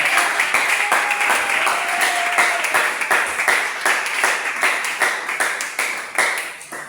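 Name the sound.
congregation applauding in church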